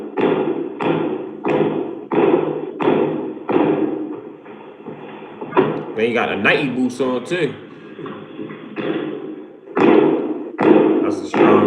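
Repeated heavy thumps on a sturdy door, struck in a steady series of blows with a short break midway, close and loud, while someone talks over the pounding.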